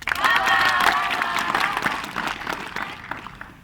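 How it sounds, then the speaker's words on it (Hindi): Audience applause at a school play at a government senior secondary school, a full burst of clapping with crowd noise and a few cheers that gradually thins out toward the end. "हमारा हौसला बढ़ाने के लिए ताली जरूर बजाएं"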